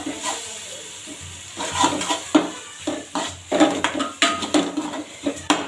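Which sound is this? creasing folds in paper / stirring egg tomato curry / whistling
stirring egg tomato curry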